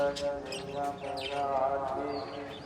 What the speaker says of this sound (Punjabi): ਸ਼ਾਮਾਂ ਦਾ ਟਾਈਮ ਜਦੋਂ ਚਿੜੀਆਂ ਚੀਂ ਚੀਂ ਕਰਦੀਆਂ